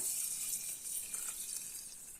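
A steady stream of water pours into a container, a bright, continuous splashing hiss with no talking.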